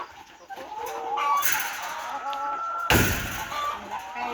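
Several chickens cluck and squawk nearby in a laying coop, with short calls overlapping and a sudden louder burst near the end.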